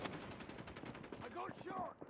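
Gunfire in Call of Duty Mobile rattles in quick repeated bursts throughout, fairly faint overall, with a voice cutting in partway.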